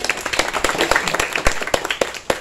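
A small audience at a school podcast recording claps in scattered, uneven beats, each clap distinct and fairly close, a light round of applause rather than a full roar.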